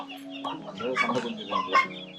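Country chickens and fighting roosters on a farm in Theni, clucking in a busy overlapping flock, close and fairly steady throughout.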